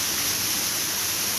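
A stream and waterfall beside a trail make a steady, broadband rush of water, continuous and fairly close, with no other sounds.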